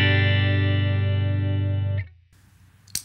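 Electric guitar with a Walrus Audio Julia chorus pedal switched off, a single dry chord sustaining clean and steady for about two seconds before being muted, followed by faint hiss and a small click.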